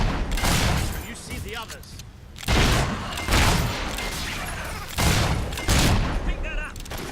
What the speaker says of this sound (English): Please keep your distance so I can shoot you.